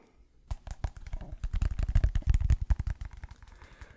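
Close, quiet tapping and clicking on an iPhone box's cardboard packaging, a rapid uneven run of small knocks that builds in the middle and tapers off toward the end.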